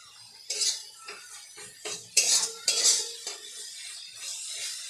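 A spoon scrapes and clinks against a metal pan as spice paste is stirred and fried, a run of irregular scraping strokes close and fairly loud, with a faint sizzle underneath.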